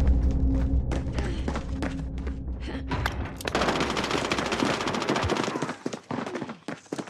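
Gunfire in Call of Duty Modern Warfare, with rapid automatic bursts and scattered single shots that build into a dense, loud volley before thinning out, alongside a few thuds.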